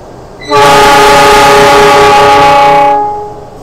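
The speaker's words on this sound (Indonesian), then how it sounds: "ini dia kereta api Argo Bromo Anggrek persiapan berangkat" The Argo Bromo Anggrek executive passenger train at Pekalongan station sounds a single loud, sustained horn blast lasting about two and a half seconds before departure, close and alone over low background rumble.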